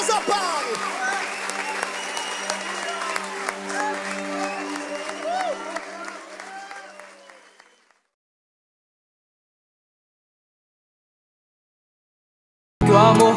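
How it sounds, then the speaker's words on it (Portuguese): A church congregation applauding, sustained clapping beneath a loud voice speaking or singing over it, fading out to silence partway through before a short loud burst at the end. "Você pode aplaudir Jesus aí, meu irmão!"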